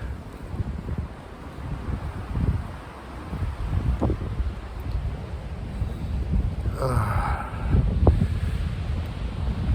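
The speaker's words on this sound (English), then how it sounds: "Looks like the wind's picking up a little bit." Wind blows through a Vienna cemetery, a soft gusting rush with rustling that swells and eases, and a few faint thumps and a brief higher noise partway through, no talk.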